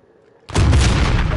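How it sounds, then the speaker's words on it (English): Precision airstrike in a Call of Duty game, a sudden loud explosion bursting in after a quiet moment and roaring on with heavy low rumble. "They had a precision airstrike"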